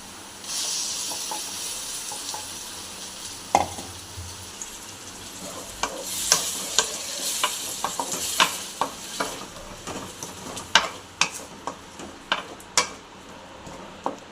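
Ground onion paste sautéing in oil for a chicken and iral gravy sizzles steadily while a spoon scrapes and stirs, producing repeated sharp clacks that grow more frequent toward the end, with no talking.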